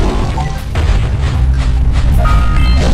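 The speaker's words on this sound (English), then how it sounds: "Does sound like we got something up there, huh? A little cannon." Cannon fire in a video game, a loud, deep, rumbling boom with low-end bursts that carry on through the whole short stretch, with no talking.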